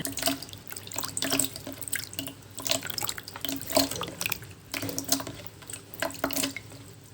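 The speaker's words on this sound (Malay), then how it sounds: "Yang ini asyik bermain dengan air saja dia. Dia suka sekali main air." Orangutan playing with water, irregular splashing, dripping and pouring sounds at close range, continuous and uneven with no voices.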